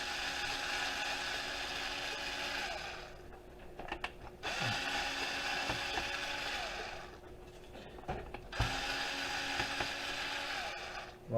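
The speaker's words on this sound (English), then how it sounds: "Always start off with a lot of screws to take out." Screws being taken out of an old laptop for scrap, a small ratcheting screwdriver clicking in steady runs with short pauses between screws, close and fairly quiet.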